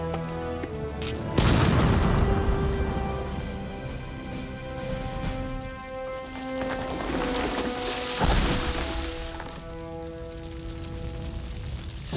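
A film scene with a loud blast after a blasting warning: a deep booming burst with a rumbling tail, then a second heavy impact partway through, all over a continuous backdrop of music.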